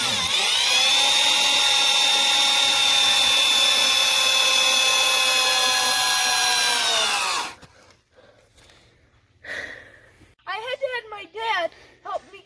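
A power drill drives an 8-inch Timberlock structural wood screw into a floor joist, a loud steady whine for about seven seconds that winds down to a stop, followed by a few knocks and then someone talking.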